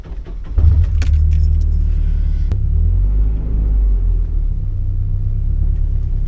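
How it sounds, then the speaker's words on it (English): A short shifter in a Nissan 240SX clicks and clunks as the lever is moved into reverse, a few sharp metallic knocks over the low, steady rumble of the idling engine. "Getting into reverse is definitely a lot better now. Just kind of locks right in."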